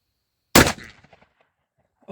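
A Smith & Wesson Model 29 .44 Magnum revolver fires a single close, very loud shot after a moment of silence, followed by a short fading echo.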